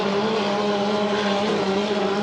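Hydroplane racing boat in a 2.5L class heat at Valleyfield, its engine a steady, loud droning roar with strong harmonic whine held throughout, no pauses.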